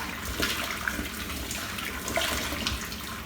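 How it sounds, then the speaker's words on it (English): Boiling water pours and splashes steadily down a sink drain, a continuous rushing gurgle close by with no voices. "I'll put some boiling water down there"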